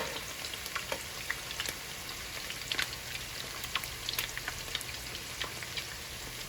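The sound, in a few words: tacos frying in oil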